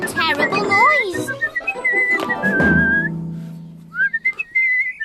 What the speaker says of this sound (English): the bristly whistler was making such a terrible noise.